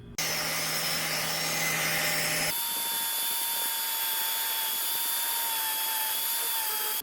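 A power tool cuts slits into a mudflap, a loud steady whine running continuously throughout, its pitch and tone shifting partway through as the cut changes.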